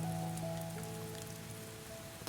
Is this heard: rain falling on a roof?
yes